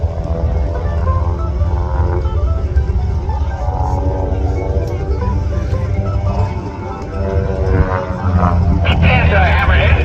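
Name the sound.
180 horsepower aerobatic airplane flying a loop at an airshow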